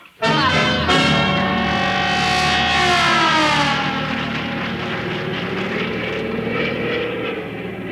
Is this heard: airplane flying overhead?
yes